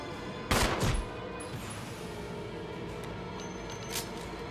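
Pistol fire in Resident Evil 1, a quick burst of two or three close shots early on, then a steady game ambience with a faint later pop.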